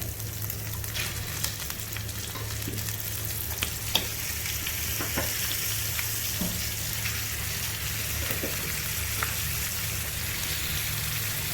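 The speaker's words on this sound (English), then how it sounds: "Now to this I am going to add my marinated mutton" Marinated mutton frying in a pan for a claypot mutton handi, a steady loud sizzle running throughout with occasional crackles and stirring clicks, no voices.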